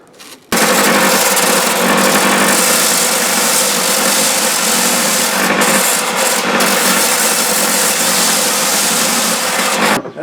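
An aluminium workpiece edge is ground in one loud, continuous, steady rasping burst lasting nearly ten seconds, starting abruptly and cutting off near the end.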